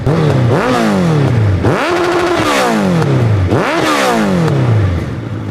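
A loud Hayabusa motorcycle engine, converted into a snow bike, revs hard three times in a row, each rev rising in pitch and then dropping away, close by and continuous.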